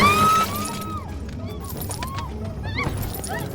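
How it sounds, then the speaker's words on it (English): Breakaway glass in a car door window shatters loudly at the start, a bright crash that quickly decays into scattered tinkling fragments and a lingering ringing tail over a low background rumble. "That's where the glass breaking effect came in."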